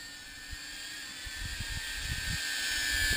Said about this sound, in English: it's a CineWhoop or a CineDrone, so I'm looking for smooth transition, smooth flight